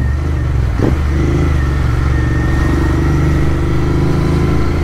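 A Royal Enfield Interceptor 650 Tracker motorcycle idles and rumbles steadily with a deep exhaust note, close by, with a brief throttle blip early on.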